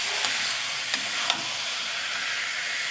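Carrot halwa is stirred in a pan to dry it, a steady soft sizzling hiss with a few light scrapes from the spoon.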